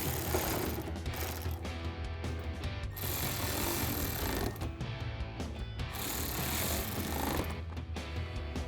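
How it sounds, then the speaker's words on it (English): Ratcheting 8mm socket tightening headlight mounting bolts on a 2019-2024 Ram 1500, a steady run of close mechanical clicking that continues with brief pauses between bolts, with no talking. "Then we'll take an 8mm socket and tighten these down."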